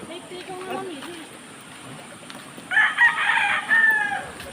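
A rooster crows loudly and close by, two long strained calls near the end, after quiet outdoor murmuring and a bit of speech.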